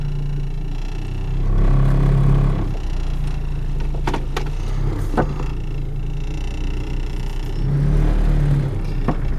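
A 1997 Geo Prizm engine idles after startup with a steady low rumble, rattling vibration from worn motor mounts, swelling twice into brief revs, heard close with faint clicks and no talk.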